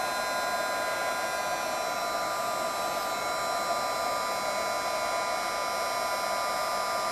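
A craft heat tool blows hot air over embossing powder on a faux metal focal image, a constant, fairly quiet whirring hiss with a steady whine that never pauses.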